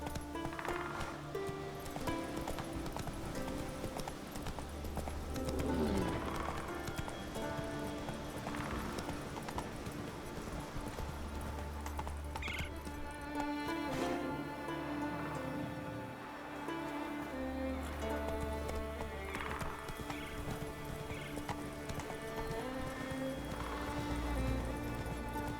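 Roach the horse galloping in The Witcher 3, steady rhythmic hoofbeats over continuous game music and ambient noise, with short bursts of rushing movement.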